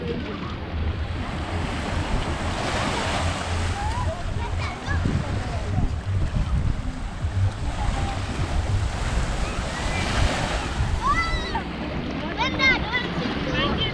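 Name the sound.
ocean waves at a beach in Jamaica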